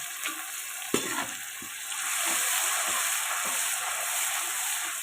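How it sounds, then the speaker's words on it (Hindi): Garlic, ginger, tomato and green chili paste frying in ghee in a pan, with a few sharp scrapes and taps of stirring, then a steady, moderately loud sizzle. "इसको हम अच्छे से करेंगे फ्राई।"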